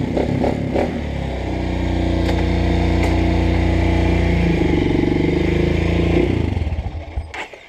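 Honda CRF 230 motorcycle engine starting on a cold morning, catching after a few sputters and then running at a steady, loud, close idle for several seconds before dropping off.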